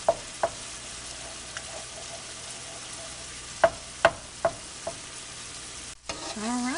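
Eggs cook in a pan for a spicy shrimp and noodle dish, with a faint background sizzle broken by several sharp clinks and scrapes of a utensil stirring, then a brief rustle at the end.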